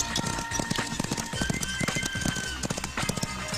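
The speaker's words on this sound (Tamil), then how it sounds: "என்னடா ஜோடியை கூட்டு போன குதிரை எம்டியா வருது?" A horse's hooves clip-clop in a steady, close, busy rhythm through a Tamil comedy scene, with occasional faint voices and background noise mixed in.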